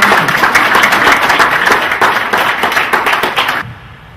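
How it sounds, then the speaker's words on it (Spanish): A conference audience gives a sustained burst of dense, loud applause with many hands clapping together, then stops abruptly after about three and a half seconds. "vamos a darle un fuerte aplauso"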